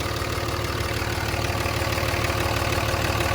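A truck engine with zero blow-by idles steadily with a low, even rumble and a faint rhythmic knock, close by, with no voices.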